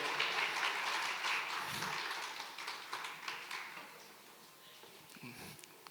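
Applause from a congress audience after a sung performance, fairly faint and uneven, with scattered claps fading and swelling over a few seconds.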